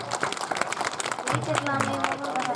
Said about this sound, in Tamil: ஜோரா அவருக்கு முதல்ல ஒரு கைதட்டு கொடுங்க